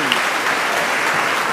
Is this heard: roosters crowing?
no